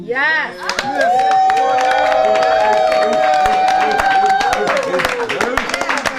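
A studio audience claps and cheers for a performer, a dense, steady burst of applause with a sung or sustained tone running through it and a short spoken word over the crowd.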